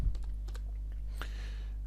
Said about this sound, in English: I type route